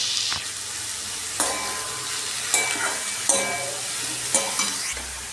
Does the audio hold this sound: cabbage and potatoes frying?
yes